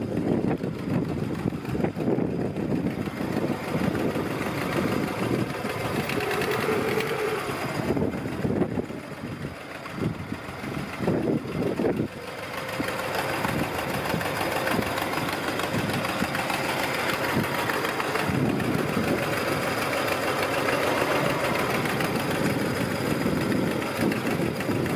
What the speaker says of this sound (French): le son de mon moteur